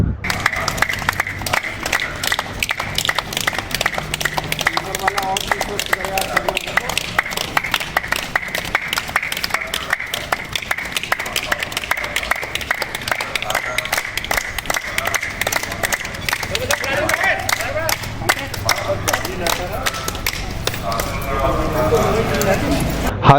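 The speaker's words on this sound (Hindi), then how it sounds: "हॉस्पिटल के स्टाफ ने तालियां बजाते हुए इन सभी लोगों का अभिनंदन किया" Hospital staff clap to send off discharged patients at a district hospital, dense sustained applause filling the whole stretch, with a voice speaking over the clapping.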